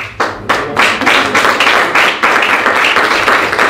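A year-in-review gathering breaks into loud, dense applause, with many hands clapping close by in steady, overlapping waves that hold throughout.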